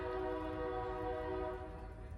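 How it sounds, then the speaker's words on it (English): A train passes by outside, a faint, sustained horn-like tone with layered steady pitches over low rumbling, fading slightly toward the end. "Okay, now there's a train passing by."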